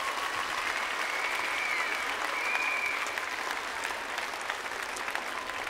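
Audience applause fills a gymnastics world championships arena after a Japanese rhythmic group club routine, a dense, steady ovation that holds loud and even throughout, with a faint whistle-like tone drifting above it.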